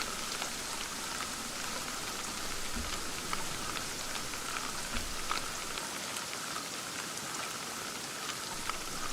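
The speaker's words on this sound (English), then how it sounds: "So we got, I think in the setup it's described as heavy rain." Heavy rain falls at night by a lake in Fishing Sim World, a dense, steady hiss of drops on surfaces that stays constant and fairly soft, with scattered sharper drips and occasional low thumps.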